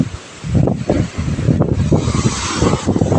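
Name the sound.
strong wind blowing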